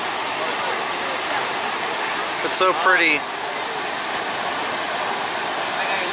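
Rushing rapids at Niagara Falls give a steady, loud broadband roar of churning water throughout, with a brief voice speaking over it partway through.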